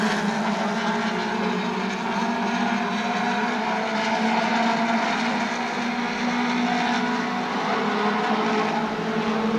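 Super stock race cars roar around the New Smyrna Speedway oval late in a heat race, a steady, dense engine drone that holds loud and unbroken throughout with no clear gaps between passes.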